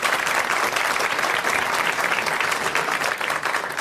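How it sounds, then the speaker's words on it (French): Dense, steady applause from a television studio audience welcoming a young guest named Philippe, loud and continuous throughout without a break. "je vous demande d'applaudir"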